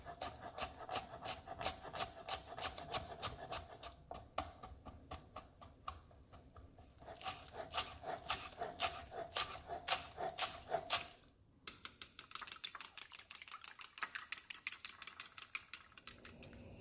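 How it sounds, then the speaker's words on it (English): Knife roughly chopping scallion whites on a cutting board, a steady run of quick, close, crisp taps in rhythmic bursts, pausing briefly, then a faster, sharper flurry of chops toward the end. "I'm just going to roughly chop this"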